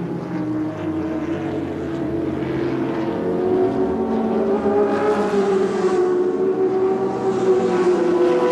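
Group C touring cars racing at the 1981 Adelaide round, including John Harvey's Holden dealer team car, give a continuous droning engine note that swells slightly louder partway through, with no voices.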